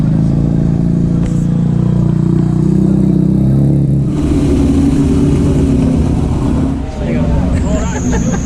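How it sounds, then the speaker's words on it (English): A loud Mazda RX-8 SP rally car's rotary engine roars and revs up close at the Targa 2022 rally, its heavy rumble filling the clip, with brief shifts in pitch as it accelerates. "Targa cars aren't normally that loud"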